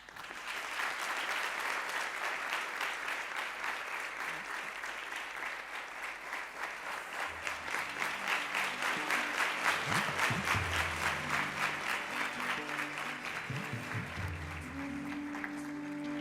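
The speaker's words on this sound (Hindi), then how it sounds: "हम सब ताली बजाएं।" An audience at an award ceremony claps steadily and warmly, a dense sustained applause with a faint murmur and brief voices underneath in the second half.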